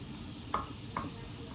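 Urad dal, chana dal and mustard seeds fry in a pan with a soft, even sizzle while being stirred, and a spoon gives two sharp taps close by.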